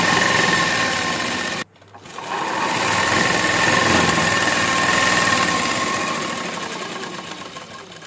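A sewing machine stitches the seams of an Afghani-style shalwar, running in a steady continuous whir with a brief pause near the start before the motor picks up again and hums on, close and fairly loud.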